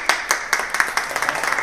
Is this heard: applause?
yes